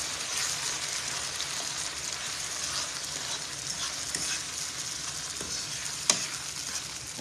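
Beaten eggs poured over frying onions in a pan for a Nigerian breakfast, a steady close sizzle with faint stirring scrapes and one sharp utensil tap near the end, no talking.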